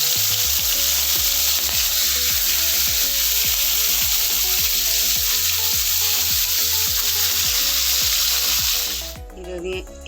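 Sliced carrots sizzle and crackle steadily in hot oil in a kadai, a loud, close, continuous frying hiss with faint stirring, cutting off abruptly near the end.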